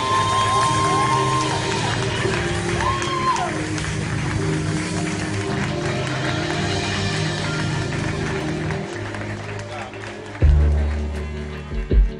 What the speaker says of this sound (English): ladies and gentlemen, clap it up